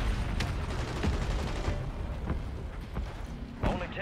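Gunfire in a shooter video game, with scattered sharp shots and short bursts popping under steady background noise and game sound, some quick cracks clustered near the end.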